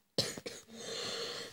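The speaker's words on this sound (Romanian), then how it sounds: "Aoleu, dar mai tușesc." Out of silence comes a sudden close cough, a few sharp hacking bursts in quick succession that trail off into a rough, breathy tail.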